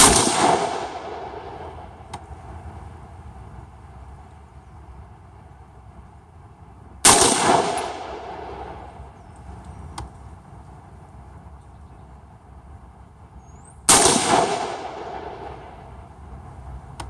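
An AR-15 rifle fires home defense loads at a shooting range: three single loud gunshots roughly seven seconds apart, each with a sharp crack and a lingering echoing tail, and no voices.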